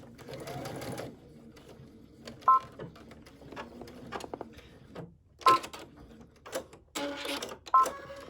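Sewing machine stitching the bow cuff of a blouse in short close bursts, a few seconds of rapid mechanical chatter separated by pauses and small clicks.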